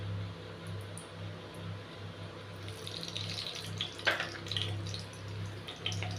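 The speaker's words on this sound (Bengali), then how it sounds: "এবার এতে তেল দিয়ে দেব।" Oil pours into a kadai for frying potol pakora with a faint, soft liquid trickle and light splashing, quiet and close over a low background hum.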